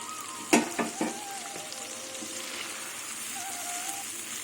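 Water poured into a hot pan of fish paste with black pepper for silver carp bhapa bursts into a loud hiss with a few splashy pops, then settles into a steady, close sizzle.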